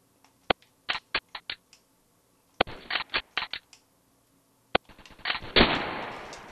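Gunfire in the Roblox shooter Phantom Forces: sharp single shots, then rapid bursts of several rounds, with pauses between volleys and a final longer burst trailing into rumbling noise.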